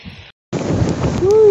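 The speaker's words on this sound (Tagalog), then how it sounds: "Lakas ng ulan!" Heavy rain pours during a motorbike ride, a dense hiss mixed with wind buffeting the microphone that starts loud after a brief gap, and a voice rises over it near the end.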